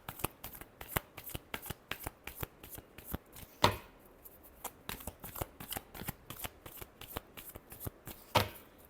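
A deck of tarot cards is shuffled close up, a rapid run of crisp riffling taps and flutters lasting about nine seconds, with a couple of louder card snaps.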